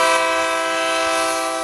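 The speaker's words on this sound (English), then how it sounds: "Train coming through." A train horn sound effect blares in one long, steady, loud chord for the whole stretch, with no voices over it.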